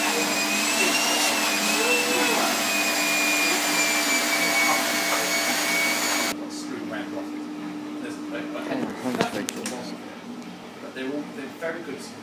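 A coin-operated car wash vacuum runs at a self-serve wash bay, a loud steady whine that drops abruptly to a lower, rougher roar partway through, with faint rustling and bumps near the end.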